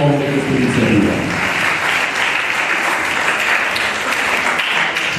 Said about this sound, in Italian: Adesso fatevo un applauso al vicepresidente per l'idea e l'idea di promuovere questa iniziativa.